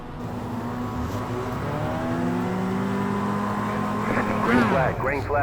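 Race car engines at the start of an iRacing sim race, a steady droning pack of motors rising in pitch with rapid upshifts and revving toward the end, heard under continuous talking.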